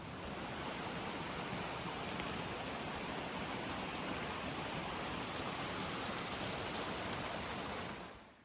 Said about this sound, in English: there's a beautiful little waterfall along this way